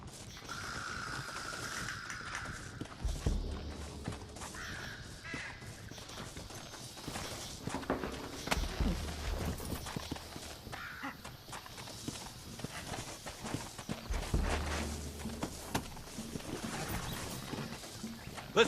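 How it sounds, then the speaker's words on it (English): Horse hooves clip-clop steadily in Red Dead Redemption, a rhythmic run of clopping over a busy game soundscape of gear jingle and scattered noises, moderately close and fairly quiet. "Looks like Carlos left us some horses."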